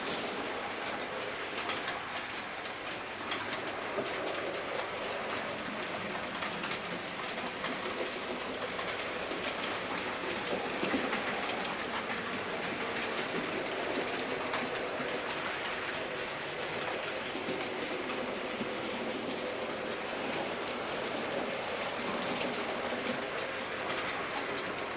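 Three Terrier model locomotives run on a model railway, giving a steady, continuous rolling noise throughout, with faint bird-like chirps mixed in.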